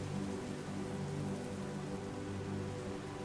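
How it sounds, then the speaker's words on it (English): Steady rain patters in a continuous even wash, soft and constant, with no voices. "his eyes still tightly shut, Farran can feel the rain recede from a monsoon to a gentle sprinkle."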